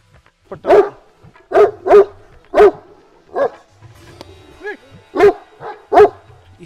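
Bully Kutta Pakistani mastiffs bark in deep, loud, spaced woofs, roughly eight barks with short whimpering yips between them, close to the listener.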